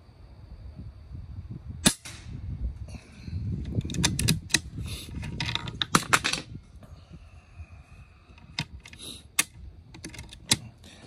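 Hatsan AT44 Tactical .22 regulated air rifle firing: a sharp close crack followed by a scatter of metallic clicks and rattles from the mechanism, with several smaller ticks afterward.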